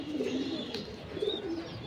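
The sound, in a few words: pigeons cooing in a loft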